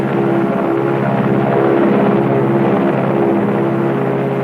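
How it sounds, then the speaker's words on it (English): A bomb-carrying airplane making its run, a loud continuous engine drone with a steady propeller hum that holds level throughout, with no voices. "The bomb-carrying plane makes its initial run."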